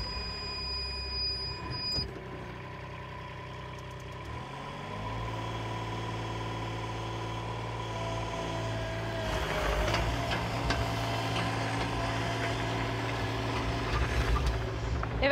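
A Caterpillar 302.7 mini excavator's diesel engine turns over at about two seconds and settles into a steady idle, with its low hum constant through the rest of the clip.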